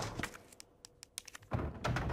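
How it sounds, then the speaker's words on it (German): A wooden board is slammed into place in the Resident Evil 2 remake, a few soft scattered taps followed by a heavier thud and a rising rustle at the end, quiet overall. "Das Holzbrett, das knallen wir direkt mal hier vor."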